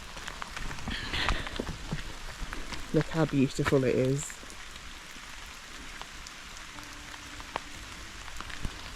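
Steady rain patters across a forest, with scattered drips and a brief spoken remark partway through.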